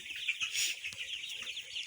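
Recovering chickens on a farm cluck softly and briefly, a faint burst of hen sounds close by against quiet background.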